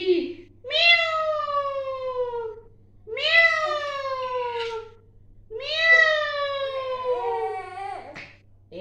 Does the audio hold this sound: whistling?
no